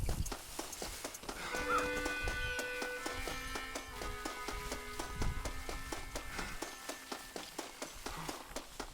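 A horse close by in Red Dead Redemption: rhythmic hoof clip-clops and snorting under a sustained musical drone, moderately quiet game ambience.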